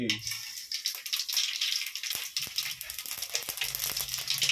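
Mustard seeds and urad dal sizzle and crackle in three ladles of hot oil as bitter gourd curry is started, a steady bright hiss with scattered sharp pops close by and faint low sounds underneath.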